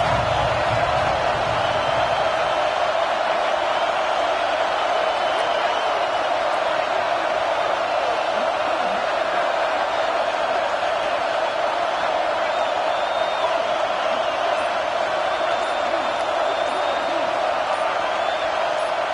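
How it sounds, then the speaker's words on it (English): Stadium crowd at a college football game against California roars in a loud, steady wall of noise that holds for the whole stretch without letup. "This crowd trying to make life miserable for this offense."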